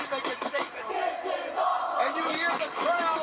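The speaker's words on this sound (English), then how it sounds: "The crowd is just crazy into it, guys." A wrestling arena crowd roars and shouts loudly and continuously. Individual yells rise and fall within the dense din, and some voices cut through the noise.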